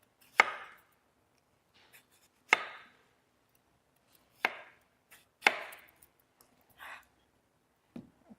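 A knife chops a pear on a board in single, well-spaced strokes, about six crisp, close thuds spread unevenly over several seconds with silence between them, no voices.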